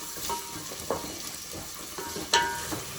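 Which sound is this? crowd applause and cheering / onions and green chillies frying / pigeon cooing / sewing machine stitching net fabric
onions and green chillies frying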